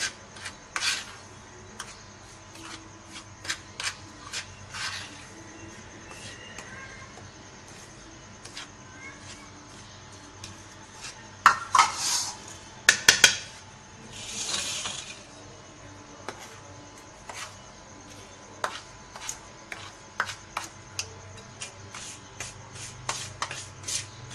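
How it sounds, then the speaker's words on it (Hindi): Flour and semolina being mixed together in a bowl, heard as soft, quiet rubbing and rasping strokes that come in scattered bursts, with some louder scrapes near the middle and no talking. "अब हमने इसमें मैदा डाला है, सूजी डाली है। अब इसे मिक्स करेंगे।"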